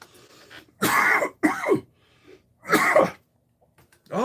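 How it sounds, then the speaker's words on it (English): Four harsh, throaty coughs come in separate bursts with short quiet gaps between them, close and fairly loud. "excuse my coughing this morning."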